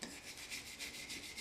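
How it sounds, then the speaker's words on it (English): A wire brush scrubs loose built-up corrosion off a car shaft around an ABS reluctor ring, a quiet rhythmic rasping of quick back-and-forth strokes with no talk. "So we'll continue to do this with the wire brush just to clean off a lot of the loose stuff."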